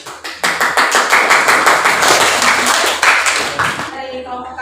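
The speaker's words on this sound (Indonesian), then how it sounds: "tepuk tangan lagi untuk kelompok 1" An audience in a classroom presentation session applauds a student group, dense steady clapping from many hands that swells quickly, holds loud and even, then thins out and stops near the end.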